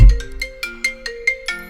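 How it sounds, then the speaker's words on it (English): A phone ringtone plays alone, a bright, loud melodic chime repeating note after note in a steady rhythm. "I don't know why my phone is ringing."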